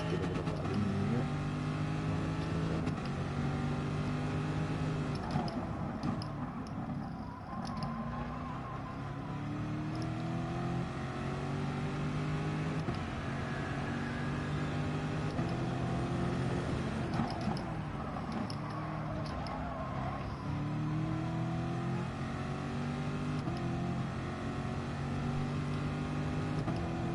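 A race car engine in Gran Turismo Sport revs repeatedly, its pitch rising in sweeps as it accelerates and falling back between runs, loud and continuous with no talking.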